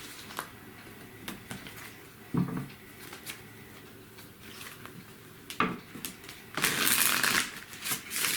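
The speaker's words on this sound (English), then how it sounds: "I want to pull some cards." Tarot cards being shuffled, with scattered soft riffles and taps building to a louder, denser burst of shuffling near the end, fairly close and with no talking.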